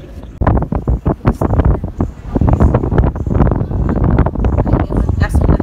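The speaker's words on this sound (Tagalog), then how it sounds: "So napakahangin dito sa pwesto natin." Strong gusts buffet the microphone at an airport viewing spot facing the runway at Mactan-Cebu International Airport, loud rumbling bursts that are irregular and constant.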